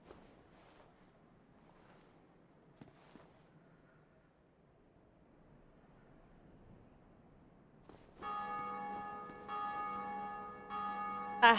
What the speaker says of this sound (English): I hear the bell.